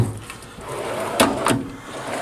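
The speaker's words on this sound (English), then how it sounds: "pull all the drawers out, you got full extension on the drawers" A US General 26-inch tool chest drawer slides on its full-extension runners, giving two quick, close scraping clunks about a third of a second apart over a quiet room background.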